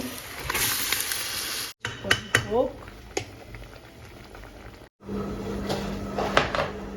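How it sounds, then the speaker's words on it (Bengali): Chicken meat for curry goes into a hot pan, giving a steady sizzling hiss with a few clatters and scrapes. Someone speaks briefly over the cooking noise. "এই তো এখনই আমি হচ্ছে মাংসটা দিয়ে দিচ্ছি"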